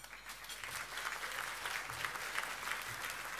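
An audience applauds at the National Trust Heritage Awards 2021 ceremony, a dense, steady wash of clapping from many hands that keeps going at moderate loudness for a few seconds.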